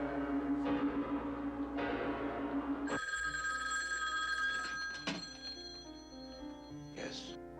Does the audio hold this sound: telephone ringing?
yes